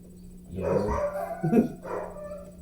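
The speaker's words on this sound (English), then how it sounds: "No, it's barking for you." Two or three loud, close dog barks sound against a low, steady hum.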